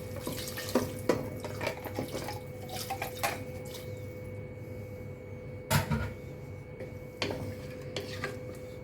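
Water runs from a tap or is poured into a cooking pot for chicken gizzards, a steady watery hiss with a few soft knocks and clinks of pots nearby, no talking.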